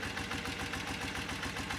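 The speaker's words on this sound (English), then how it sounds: "so as I bring this screw out, I'm giving the engine more fuel, so the mixture's getting richer, and it's starting to run a little rougher" A BMW motorcycle engine idles steadily during carburetor tuning with a rich fuel mixture, giving a continuous, slightly rough, fast-pulsing putter heard up close with no talking.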